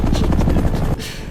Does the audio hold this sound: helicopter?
yes